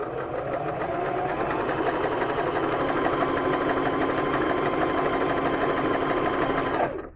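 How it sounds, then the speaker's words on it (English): A sewing machine set to a wide zigzag stitch runs along a fabric edge, giving a steady, close, continuous mechanical whir for about seven seconds before stopping abruptly, with no talking. "you put it on wide zigzag, right? And then you start to sew."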